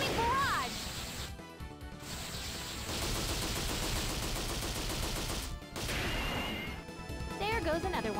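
Valkyrie Profile 3 attack effects play out as a dense, loud barrage of crashing hits and rapid gunfire-like bursts in a battle, layered under character voices and music.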